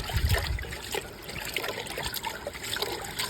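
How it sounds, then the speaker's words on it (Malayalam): Beef being washed by hand in clear, clean forest stream water, a steady nearby trickle and slosh of running water with soft splashes, no one talking. "ആ വെള്ളം ഉപയോഗിച്ചിട്ടാണ് ഞങ്ങൾ ബീഫ് കഴുകുന്നത്"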